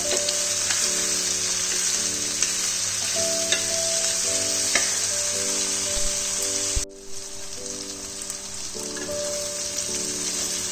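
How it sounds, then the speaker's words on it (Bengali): Vegetables, including Malabar spinach stalks, fry steadily in a pan with a dense, even sizzle and crackle, close and continuous, with a brief dip midway and tonal background music underneath. "সবজিগুলো ভালোভাবে ফ্রাই হয়ে যাচ্ছে।"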